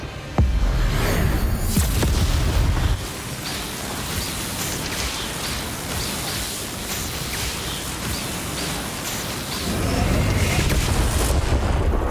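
Bombarda and Confringo explosion spells in Hogwarts Legacy boom in a broad, roaring wash of blasts and rumbling debris that persists loudly throughout, swelling again near the end.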